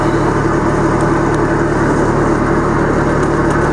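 Diesel engine of a 1999 John Deere 748GII skidder, an 8.1 liter big-bore unit, running steadily at idle, loud and close with a constant low rumble and no pauses or talk.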